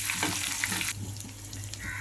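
Loud sizzling of finely chopped small shallots hitting hot oil, a bright crackling hiss that settles into steady frying.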